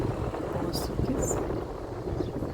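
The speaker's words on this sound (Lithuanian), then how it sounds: "pučia stiprus vėjas" Strong wind blows outdoors along a street lined with flowering lilacs, a continuous low buffeting rumble across the microphone with faint higher gusts, heard with no speech.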